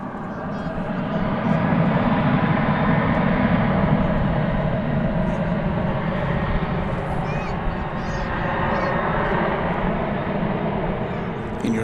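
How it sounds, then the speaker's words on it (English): An American Airlines jet departs DFW Airport, its engines producing a steady, broad roar that stays loud and even throughout, heard from a distance with faint background sounds. "you're listening to American Flight 2628 departing for Omaha, Nebraska"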